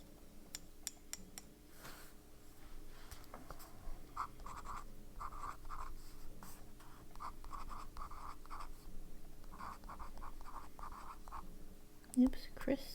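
A fountain pen loaded with Birmingham Pen Company Crisp ink scratches across paper in quick, close strokes with short pauses between words, soft and continuous over a low steady hum.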